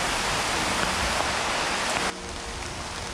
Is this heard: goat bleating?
no